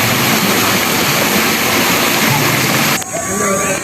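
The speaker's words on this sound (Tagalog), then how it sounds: "Dito ay may madadaanan din kayong maliit na sapa." Small stream flowing at a resort, a steady loud rush of water filling the whole span, changing tone and dropping slightly near the end.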